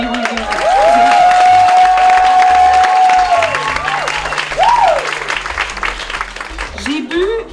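An audience at a culture awards gala applauds, a warm burst of clapping from a large hall that swells and then slowly fades, with a voice speaking over it.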